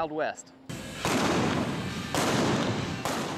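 Loud revolver gunshots at a Texas rodeo boom about once a second, each blast leaving a broad rumbling tail, after a brief voice at the start.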